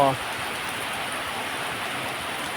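Heavy rain pours steadily on a rubber plantation in the evening, a dense, even hiss close by that carries on without a break, with a short stretch of voice right at the start.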